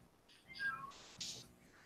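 A cat meows indoors, two quiet, short calls in quick succession against a near-silent room.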